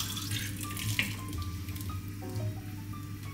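Milk made from milk powder pours steadily into a pot of soup, a close continuous liquid stream with a low hum underneath and a few soft splashes.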